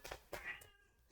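A kitten meows two or three times in short, close, fairly clear calls, the last one thinner and higher, with no talking over it.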